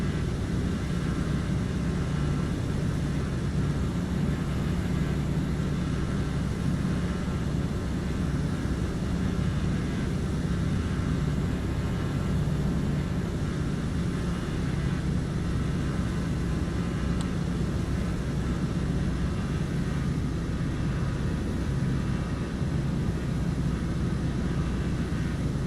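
Steady, loud droning of a Spitfire's piston engine in Microsoft Flight Simulator, a continuous low rumble with a constant cockpit hum throughout and no voices.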